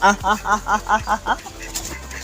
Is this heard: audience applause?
no